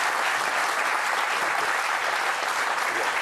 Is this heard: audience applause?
yes